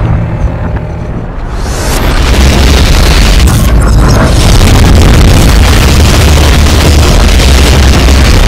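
A big gun blast in a skibidi toilet animation, a sudden heavy boom that erupts into a long loud rumbling roar filling the rest of the clip.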